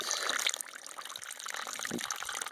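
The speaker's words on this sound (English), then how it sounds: "Get bored filtering water, gotta do something." Water trickles and splashes close by as it is filtered on the Appalachian Trail, a steady liquid gurgle with small irregular drips, heard alone without talk.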